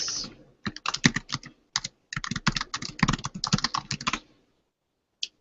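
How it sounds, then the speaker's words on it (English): Someone types on a computer keyboard, with rapid clicking keystrokes in uneven bursts and short pauses, fairly quiet and close, ending with a single tap. "just gonna start typing stuff."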